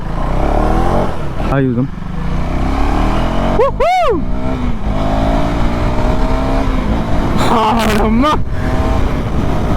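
A Royal Enfield motorcycle accelerating hard on a ride, its engine roaring loud and close with rising revs and a couple of gear shifts, while riders talk and shout over it.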